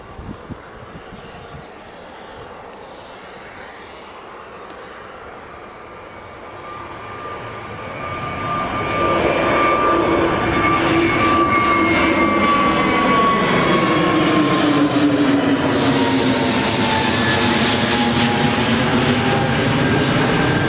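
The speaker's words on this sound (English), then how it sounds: "that's the EasyJet just departed" An EasyJet airliner departs Newcastle Airport, its jet engine roar rising from a distant rumble to a loud, sustained, sweeping drone as it climbs away.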